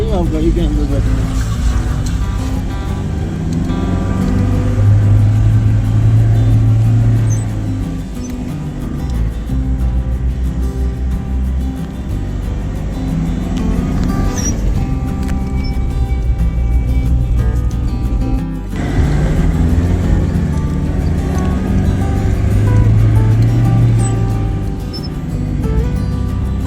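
A car driving on a high-altitude mountain road, a loud continuous engine and road rumble that swells and eases as it climbs, with a voice talking over it.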